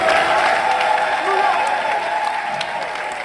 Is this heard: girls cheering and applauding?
yes